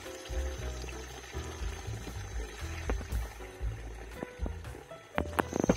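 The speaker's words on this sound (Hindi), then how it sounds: "आवाज सुनाई दे रही होगी आपको, जंगल का पानी देखिए" Spring water in a mountain forest in Uttarakhand trickles and splashes steadily close by, with scattered clicks and small knocks over the continuous flow.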